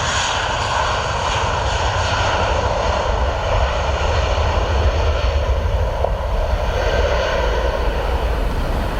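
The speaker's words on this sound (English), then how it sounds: "He's on proper full power there because he wants to get off the runway quick" An airliner takes off at full power from Luton Airport runway 25, its engines making a loud, sustained roar with a steady broadband rush and droning tones, powerful and unbroken throughout with no speech.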